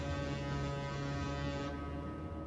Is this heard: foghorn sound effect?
yes